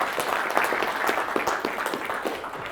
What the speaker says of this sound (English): So a little round of applause for Sharon again.